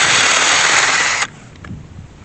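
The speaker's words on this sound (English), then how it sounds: "The drill's still working, but it just smokes from here." A faulty, smoking power drill runs in reverse with a loud, steady whirring roar for just over a second, then cuts off abruptly, leaving faint background noise.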